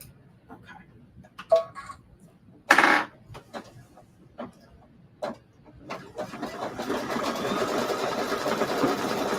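Embroidery machine stitching a wall hanging, opening with scattered ticks and clicks before settling into a loud, steady, rapid mechanical whir of the needle running continuously up close.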